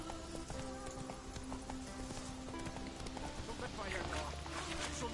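Hooves of a horse in The Witcher 3 clip-clop steadily and close at a trotting pace under continuous ambient game sound.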